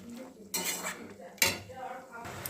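Homemade tutti frutti being stirred into sugar syrup in a pot over a high flame, with a spoon scraping and clinking against the metal a few times, close and fairly soft.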